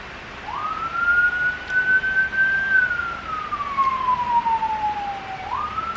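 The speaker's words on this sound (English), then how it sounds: "Sorry about the sirens." A single emergency vehicle siren, responding to a nearby house fire, wails and sweeps slowly up and down in pitch, moderately loud, over a quiet background.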